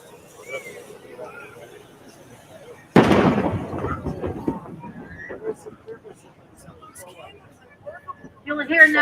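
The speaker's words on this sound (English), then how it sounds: "You'll hear now that cannon shot that came from Winnipeg" A single loud cannon shot fired from a schooner at a parade of schooners in Gloucester, booming sharply out of quieter background and decaying with a rumbling tail, with people talking before and afterward.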